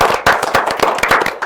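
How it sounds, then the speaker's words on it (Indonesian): An audience bursts into applause, a brief, loud and dense patter of many hands clapping close by with no voices over it. "Tepuk tangan sekali lagi."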